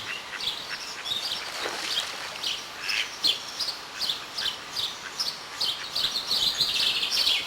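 Common moorhen adults and their chicks call from the water: a steady run of high, thin chirps and peeps with brief louder notes throughout, fairly close, with no talking.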